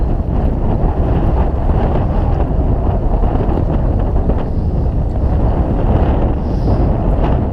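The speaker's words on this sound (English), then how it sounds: "This wind is absolutely insane." Strong wind buffets the microphone on a lake while bass fishing, a loud continuous roar with rushing gusts and no talking.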